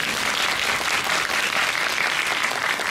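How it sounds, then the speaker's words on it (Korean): A large cinema audience at a film screening Q&A claps steadily and loudly for the whole stretch, a dense wash of applause with no voices on top. "박수 한번 주시죠."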